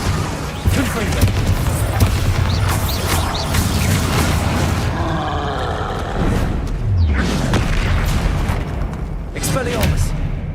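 Confringo blasting spell explosions in Hogwarts Legacy, several loud booming bursts amid a busy combat mix, with a voice talking over the action.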